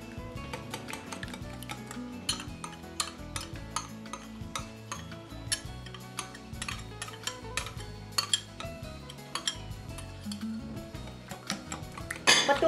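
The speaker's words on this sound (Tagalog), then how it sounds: "Patuloy na pagbati hanggang sa magkrema ang itlog at humalo ito sa gatas." A whisk beats eggs and condensed milk in a deep bowl, making quick, steady metallic clinks and ticks against the sides, close and fairly soft and continuing without pause. No one speaks.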